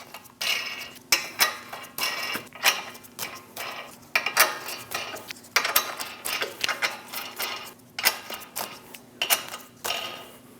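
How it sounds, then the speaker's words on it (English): Lug nuts are threaded by hand onto a wheel of a Chevrolet Express 2500 van, a busy run of quiet metallic clicks, ticks and rattles repeating irregularly up close. "Install the 8 lug nuts by hand."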